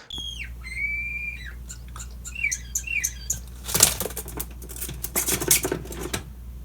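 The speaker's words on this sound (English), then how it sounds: "we've got some birds living in our dryer vent line" Birds chirp and whistle in short calls at first, then fluttering wings and scratchy rustling scrape inside a metal dryer vent line where they are nesting, close and echoing.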